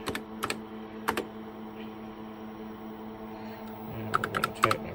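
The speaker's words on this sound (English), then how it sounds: "And we're going to type my password." Keys clacking on the keyboard of a TRS-80 Model 16 computer as a password is entered, scattered clusters of crisp, close keystrokes over a steady machine hum, with a quicker run of presses at the end.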